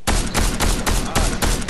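Loud bursts of rapid gunfire in Fortnite, roughly five sharp volleys repeating every few tenths of a second, close and dense with no talking.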